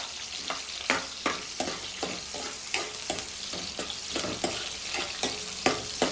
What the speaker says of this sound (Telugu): ఉల్లిపాయ కూడా వేసేసుకుంటున్నాను. అది కొంచెం వేగాలి.